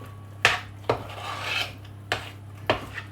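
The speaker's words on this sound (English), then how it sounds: "And then we just add our chopped walnuts. Give them a good stir in." Chopped walnuts stirred into banana cake batter in a bowl, a few separate scraping, rasping strokes of the spoon spaced unevenly, close and fairly distinct, with no voices.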